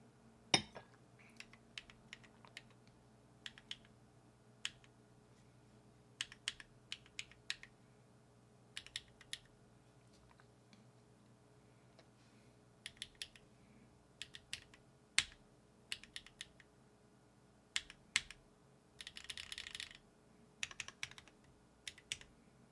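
A mechanical keyboard with assorted GMK, JTK and similar keycaps and a Nyxkeys Hermes prototype numpad is tapped in sparse, irregular runs of sharp, close keystrokes, separated by quiet pauses, with one brief rapid flurry late on.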